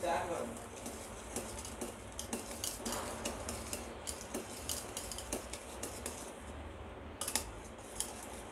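A spoon stirs sugar into sewai, a vermicelli dessert, in a pan, making repeated close metallic scrapes and clinks in an uneven rhythm, with a voice present at times.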